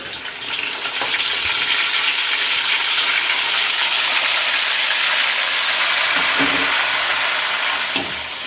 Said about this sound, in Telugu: ఇప్పుడైతే ఎర్రగడ్డ అయితే దోరేసినట్టు వాడిపోయింది ఇప్పుడైతే టమాటో అయితే వేస్తున్నాను